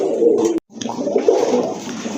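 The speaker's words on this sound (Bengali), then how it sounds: "আজকে কিন্তু সব কালারের ভিতরে রাজগোল্লা কবুতর আপনারা পাবেন।" Rajgolla pigeons coo in loud, close, rolling throaty calls that run almost without pause, broken once by a brief silent gap before resuming.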